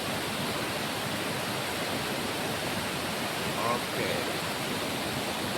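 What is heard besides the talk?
Ravana waterfall in Sri Lanka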